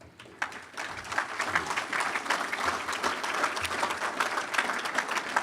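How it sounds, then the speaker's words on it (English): An audience at a Best of Ashtabula County 2018 event applauds, dense, sustained clapping close by and filling the whole stretch without letup. "you owe yourselves a great round of applause"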